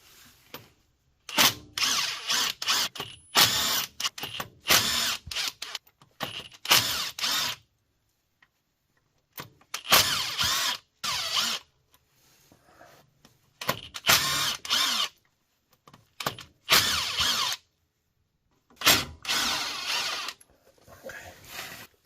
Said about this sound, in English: So now we are unscrewing the four screws on the other side.